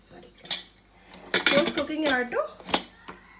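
A metal pot lid clanks shut while Andhra-style palak pappu cooks, with a cluster of sharp close metallic clatters and rattles in the middle and softer clinks around them.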